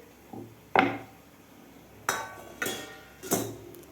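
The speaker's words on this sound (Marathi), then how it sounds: "आता हे बनवलेले पानं आपल्याला ह्या चाळणीमध्ये ठेवून द्यायचे आहेत" Oiled metal sieve knocked and clinked as rolled alu wadi colocasia-leaf rolls are set into it in a home kitchen, several sharp close clatters spaced irregularly over a quiet background, no voices.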